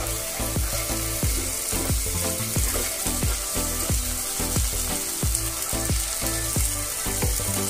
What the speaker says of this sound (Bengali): ধনের গুঁড়ো, কাশ্মীরি লঙ্কার গুঁড়ো। মশলাগুলো আমি ভালো করে কষিয়ে নিচ্ছি।